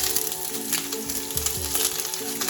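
Sliced onions sizzle steadily in hot oil for dhal, a continuous close crackling hiss with a few soft stirring scrapes and no speech.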